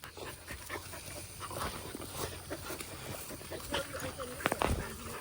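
A black farm dog pants rapidly and gives soft whimpers close by, with a voice talking over the sound and a few sharper knocks near the end.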